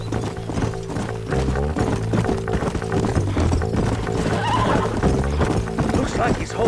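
A horse in the video game Red Dead whinnies loudly and clip-clops at a gallop, with rhythmic hoofbeats running beneath game music and voices throughout.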